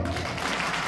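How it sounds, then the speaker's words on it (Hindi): A crowd at a political rally breaks into brief, dense applause, a steady wash of clapping lasting about a second. "बोलो ठीक है तो ताली गड़गड़ी बजाओ।"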